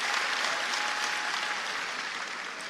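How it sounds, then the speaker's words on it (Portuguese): A church congregation applauds continuously, a dense wash of clapping hands that stays loud and even throughout. "pode aplaudir o Senhor pela vida dele"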